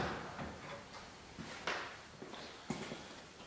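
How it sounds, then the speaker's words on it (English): A wooden cabinet drawer without soft-close hardware is pushed shut in a workshop, giving a few soft knocks and a couple of sharper thumps, faint and close. "I don't mind having to push this drawer in a little bit."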